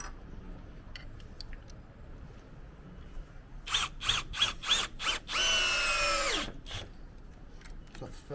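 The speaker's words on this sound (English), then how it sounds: "Making sure you're screwing the screws in straight so it's not popping out the side of the rafter." A power drill drives solar screws into a roof rafter in short bursts of whirring, then one longer sustained run that winds down. It is close and fairly loud, with quiet background noise in between.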